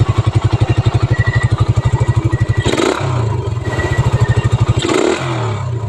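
Suzuki Raider 150 motorcycle with a 28mm round carburetor held at high RPM, a loud close rapid engine pulse with two brief dips in the revs.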